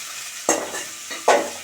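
Chopped onions and green chilies frying in a pan for a goat meat curry, with two bursts of sizzling as the pieces are stirred, settling back to a steady low fry between them.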